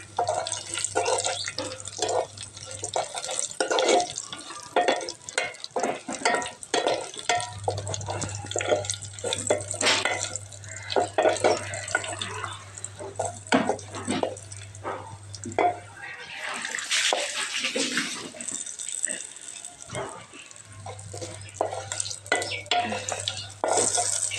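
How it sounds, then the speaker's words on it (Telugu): Tempering spices crackle and splutter in hot oil for tomato dal, with bursts of sizzling and spoon stirring, while a person talks over the cooking. "తాలింపు అయితే ఎగుతుంది కదా"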